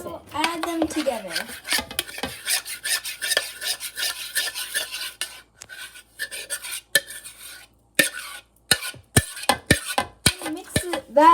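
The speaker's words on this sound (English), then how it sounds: "Add in your 1/4 cup of cooled melted butter. And mix it all together and add it to your dry ingredients." Pumpkin muffin batter being stirred with cooled melted butter folded in: rapid wet scraping of a utensil around a bowl, close and steady, broken by pauses and a run of sharp clicks and taps near the end.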